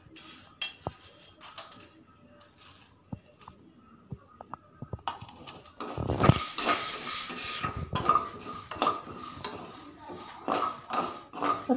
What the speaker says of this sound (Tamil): இப்போ கடலைப்பருப்பு வறுத்துட்ருக்கோம்